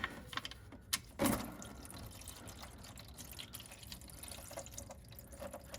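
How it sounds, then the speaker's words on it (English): Thin 0W15 engine oil drains from a 2024 Toyota Corolla Hybrid into an oil pan, a faint steady liquid trickle and patter after a brief clunk near the start, close by with no talking. "So we're going to take it out and just start letting it drain."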